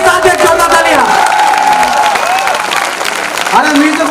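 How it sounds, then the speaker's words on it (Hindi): Applause from a seminar audience, clapping loudly and steadily alongside music with a harmonic melodic line running through the whole stretch. "हिंदुस्तान की एक जोरदार ताली बजा"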